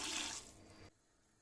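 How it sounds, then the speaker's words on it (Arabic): Water pours from a tap or jug into a pot for a Tunisian bulgur dish with beans, chickpeas and lentils, a brief hissing splash that drops off, then near silence. "نمرقوها بشوية ماء"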